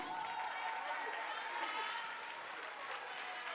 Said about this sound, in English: Clap for Mawuko.